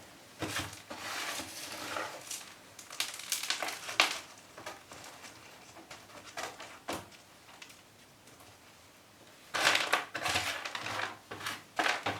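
Potting soil crunches and rustles as hands press it down around a plant during repotting, coming in close, scratchy bursts separated by quieter stretches.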